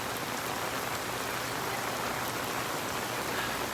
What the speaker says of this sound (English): Mr. Puppy loves this rain